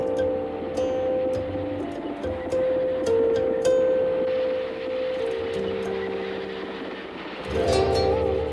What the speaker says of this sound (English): The Dalai Lama took the train for the first time.